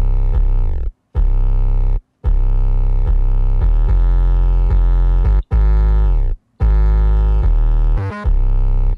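A fat, overloaded, processed 808 bass plays loud and distorted, in sustained deep notes broken by short pauses.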